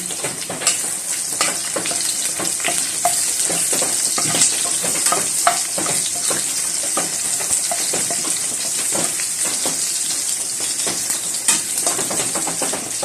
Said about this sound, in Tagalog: Nagigisa ako ng bawang.